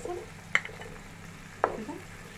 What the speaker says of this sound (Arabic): عندنا بصل ننزل عليها بالبصل